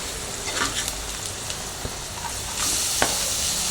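Carrots tipped into a pan of browned onions for carrot rice set off a steady hissing sizzle, swelling louder near the end, with a few sharp spatula taps against the pan.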